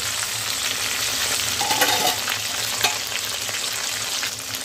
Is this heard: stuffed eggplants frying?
yes